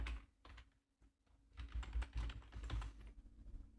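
Quiet keystrokes on a computer keyboard while an email address is entered into a sign-up form, arriving in quick irregular bursts with brief pauses.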